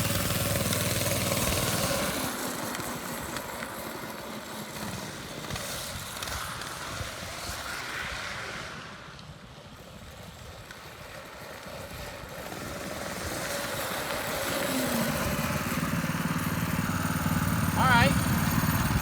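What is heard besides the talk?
drift trike engine running during a brake test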